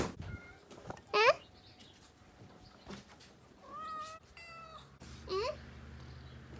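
A hungry cat meows for food several times in short, rising cries spaced a few seconds apart, fairly close and moderately loud over a quiet indoor background with faint clicks.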